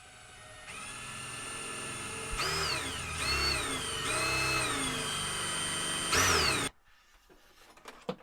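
A power drill whines steadily, revving up and down several times in short bursts, then stops abruptly, leaving faint clicks and handling noise.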